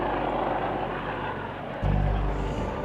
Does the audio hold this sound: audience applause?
no